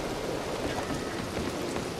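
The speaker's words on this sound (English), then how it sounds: "look at the raindrops falling on my head now" Steady rain falls in the Red Dead Redemption 2 Online game world, a dense even hiss of drops hitting surfaces, continuous and fairly loud throughout.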